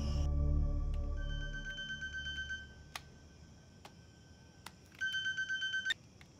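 A mobile phone rings in a Marathi horror film with a melodic electronic ringtone of repeating tones. It plays in two bursts with a gap between them and no voices.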